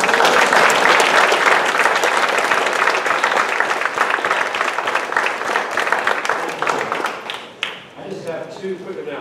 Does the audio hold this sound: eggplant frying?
no